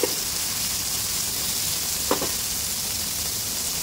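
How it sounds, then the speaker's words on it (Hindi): Tomatoes and capsicum fry on a hot tawa for egg tawa pulao, giving a loud, steady sizzle throughout with a brief stirring clatter partway through. "अब यहाँ पे जो टमाटर रखे हैं ये डाल देंगे"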